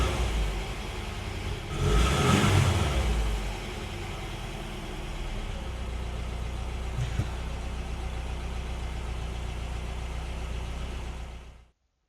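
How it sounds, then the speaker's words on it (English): A car's engine, just back on the road after sitting off it, revs up briefly from idle and then settles back into a steady, rumbling idle that runs on for several seconds before cutting out, with no talk over it. "Let's give it a bit of revs"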